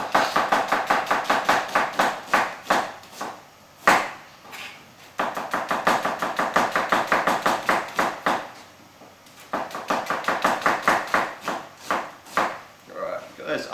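A knife chops rapidly on a cutting board in quick steady bursts, with brief pauses between runs of sharp, close taps.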